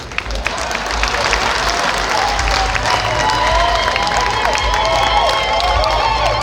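Audience at a gathering of Luo people clapping and cheering, a dense, sustained wash of applause with crowd noise and voices throughout, loud and steady from start to finish.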